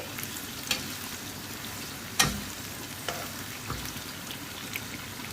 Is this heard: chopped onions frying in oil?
yes